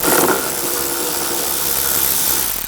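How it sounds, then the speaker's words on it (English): A power tool whirs steadily for under three seconds, close and loud, backing out screws from the underside of a 2009-2010 BMW 535i xDrive near the inner rear fender well. No one speaks. "Underneath, we're going to remove these screws."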